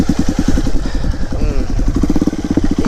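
A modified Hero Impulse motorcycle engine idling close by, a loud, steady rapid thumping pulse with a slight rev near the middle.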